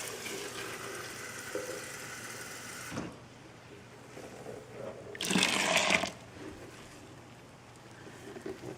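Cold tap water pours into a blender for almond milk, a steady broadband rush that stops around three seconds, followed by a brief louder gush or splash midway, then quieter kitchen noise.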